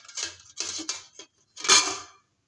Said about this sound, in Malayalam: ഇനി ഈ തട്ട് തട്ടെടുത്ത് കമിഴ്ത്തിട്ടു